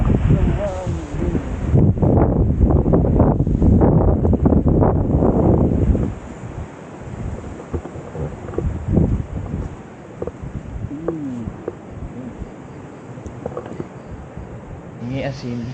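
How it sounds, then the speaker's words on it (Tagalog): Strong wind blows across a moto camping site near falls in Tanay, Rizal, loud buffeting gusts on the microphone at first, easing to softer rustling while people talk. "Ang taas ng hangin."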